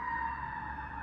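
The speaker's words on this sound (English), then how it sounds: "Siren." A siren sounds as a steady, loud, sustained wailing tone with strong harmonics, heard alone for about a second without any talking.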